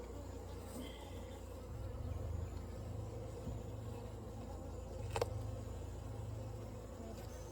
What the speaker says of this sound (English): Upset the least amount of bees.